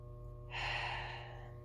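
A shallow chest breath with the shoulders lifting, heard close as one quick, sharp inhale lasting about a second over a faint steady hum.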